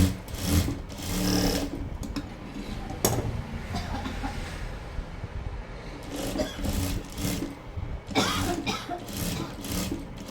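A sewing machine stitches blouse fabric in bursts of rapid mechanical whirring, stopping and starting several times, close up with a little background noise between runs.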